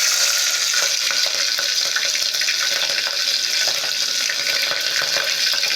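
Cumin, fenugreek, chili seeds and four or five green chilies frying in a pan for a fish recipe, a dense continuous sizzling hiss with faint crackles throughout.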